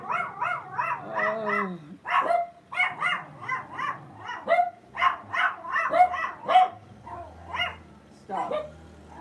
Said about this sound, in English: You don't need to start barking.